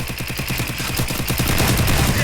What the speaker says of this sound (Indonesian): Ada tembakan di sini.